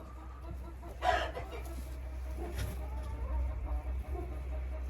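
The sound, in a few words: chickens clucking in a henhouse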